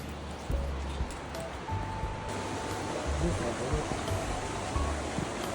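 A waterfall and stream near Chiang Mai rush in a steady, dense wash of water noise, heard from fairly close under a few faint voices and brief thumps.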